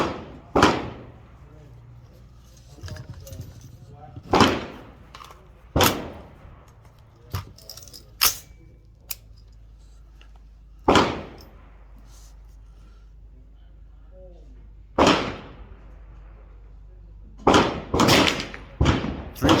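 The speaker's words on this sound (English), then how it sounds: "Three shots. Three." A PSA M4 clone rifle fires .223 steel-case rounds at 50 yards, producing about a dozen sharp, loud reports spaced irregularly across an outdoor range, some in quick pairs, with voices speaking between shots.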